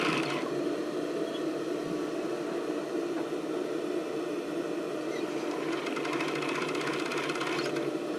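A sewing machine stitches elastic onto a tank top with a continuous, close, steady whirring hum, with no pauses throughout.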